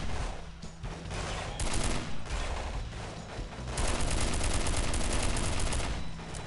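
Dense, sustained gunfire in the Delta Force: Black Hawk Down video game, overlapping rifle and machine-gun bursts filling the whole stretch at steady loudness with no talk.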